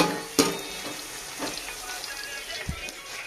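Potatoes tipped into a pan of browned onions in a canteen kitchen, giving a soft, steady sizzle with a few sharp clattering hits at the start, around the middle and near the end.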